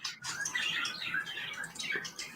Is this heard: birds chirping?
yes